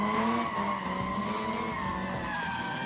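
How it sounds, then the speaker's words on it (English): Drift car tires squealing through a long opening corner at a drift competition, a loud sustained tonal screech over engine roar, heard from trackside and continuous throughout. "Tires squealing"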